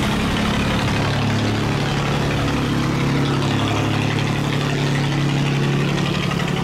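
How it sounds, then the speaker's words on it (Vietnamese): Engines of wooden boats speed upstream through an open ten-gate sluice, a steady loud mid-low motor drone with a constant tonal hum, no speech. "Đây là những chiếc ghe cây đang tốc độ đi lên nha."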